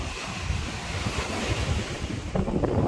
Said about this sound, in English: It's the island getting direct pounding off the waves